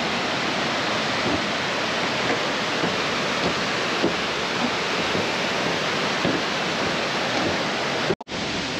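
Waterfalls pour down into a gorge crossed by walking bridges, a loud, steady rushing roar of falling water that holds unbroken throughout, then cuts off sharply near the end.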